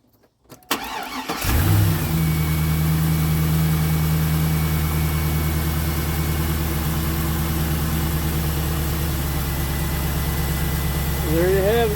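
A 2002 Pontiac Trans Am, with a plastic power steering pulley, cranks briefly and catches, then settles into a steady, smooth, loud idle with a constant low rumble and faint whine.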